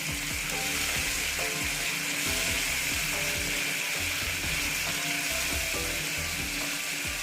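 Pabda fish sizzling in a pan with mustard-poppy seed paste and a splash of water, a steady close hiss of frying that runs without a break, with faint clinks of stirring now and then.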